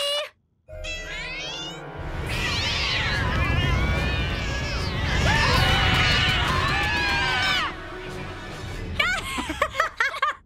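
Cartoon wild cats yowl and meow in a loud chaotic chorus, overlapping rising and falling caterwauls over a scrambling rumble, ending in a flurry of short sharp squeals.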